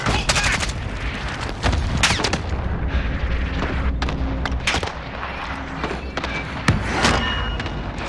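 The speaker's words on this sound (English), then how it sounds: "Allied cluster strike inbound." Cluster strike explosions in Call of Duty: Modern Warfare rain down in a loud, rapid barrage of booms and sharp blasts, dense and overlapping across several seconds, with heavy low rumble underneath.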